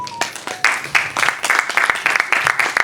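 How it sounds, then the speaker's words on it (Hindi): An audience at an evergreen Hindi film music concert claps to welcome a singer to the stage, a close, fairly loud run of separate claps building into a loose, uneven rhythm. "हम स्वागत करेंगे जोरदार तालियों के साथ।"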